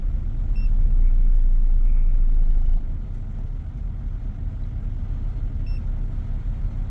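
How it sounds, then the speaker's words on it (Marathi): Steady, loud road traffic in Ho Chi Minh City: a dense rumble of passing cars and engines that stays close. The low-end roar is heaviest for the first few seconds and then settles to a slightly softer, continuous drone. "गाड्याच गाड्या"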